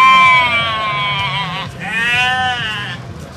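Sheep bleat near a bridge in two long, loud, wavering calls close by, separated by a short pause, with little other sound around them.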